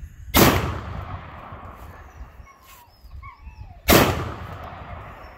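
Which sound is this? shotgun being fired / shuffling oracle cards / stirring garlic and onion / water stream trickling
shotgun being fired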